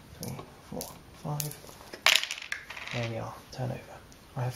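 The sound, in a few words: coins counted out and dropped in Citadels board game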